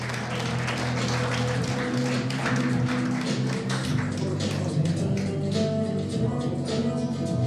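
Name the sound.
audience applause welcoming the chairwoman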